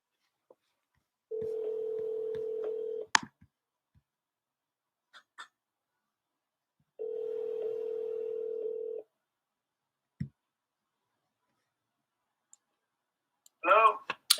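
An outgoing telephone call: a brief dialing click, then two long ringback tones several seconds apart, with a few faint clicks between them and a short burst of a voice at the very end.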